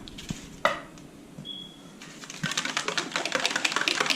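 MTN Liquid Silver paint being mixed for refilling a Uni Paint PX-30 marker gives a few sharp knocks, then a dense, steady run of close, rapid clicking and rattling that builds toward the end, with no talking.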